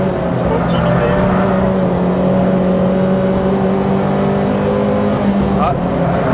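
Peugeot 206 RC engine held at full throttle in second gear, a loud steady drone with sustained harmonic tones, run close and continuous under a driver talking.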